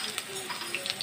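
Fried onion sizzles in a pan of hot oil tempered with garam masala and a dried red chilli, a quiet, steady crackling hiss with small pops.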